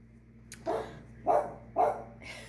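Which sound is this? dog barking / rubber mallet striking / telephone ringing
dog barking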